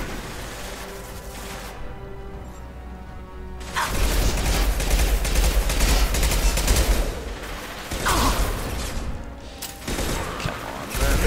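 Sustained gunfire and explosions in a Mass Effect 2 firefight, loud bursts of automatic shots and impacts filling most of the stretch, with a brief lull early on before the shooting resumes heavily.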